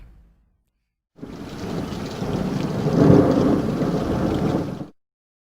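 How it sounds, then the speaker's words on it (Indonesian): Heavy rain pours down with a deep rumble of thunder swelling in the middle, loud and continuous before cutting off abruptly. "Tiba-tiba hujan turun dengan lebatnya, beserta sambaran petir."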